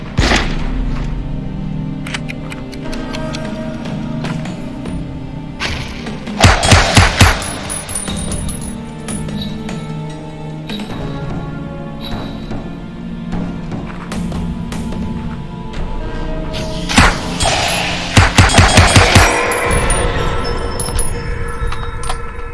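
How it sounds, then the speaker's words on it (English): Enemy gunfire in a video game sounds as loud bursts of rapid shots, with two clusters of cracks standing out over a steady, dense game soundtrack. "I hear him shooting."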